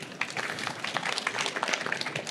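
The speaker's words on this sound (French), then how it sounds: "je pense qu'on peut applaudir nos amis de chez Pôle emploi" Brief, moderate applause from an audience at a French employment conference on CV writing, a short burst of dense clapping heard alone.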